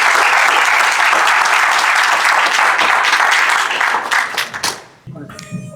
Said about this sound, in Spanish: Con un fuerte aplauso, por favor.